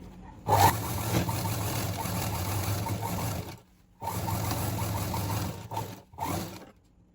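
A sewing machine runs in steady bursts while stitching the slit of a cigarette pant, with two sustained runs separated by a short pause and then a couple of brief stops and starts, close and fairly loud.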